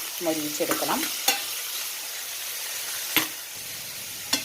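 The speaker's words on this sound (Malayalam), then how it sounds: "ആദ്യം ഞാൻ കയ്പയ്ക്കയാണ് കേട്ടോ വറുത്തെടുക്കേണ്ടത്" Oil sizzles in a steady hiss as bitter gourd fries over medium flame, with a few sharp clinks of a utensil against the pan and a short creak near the start.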